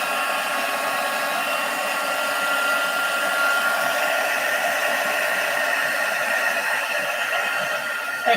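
Heat tool or hair dryer blowing on a handmade card to dry it, a loud steady whooshing hiss that stays constant for the whole stretch with no talking over it.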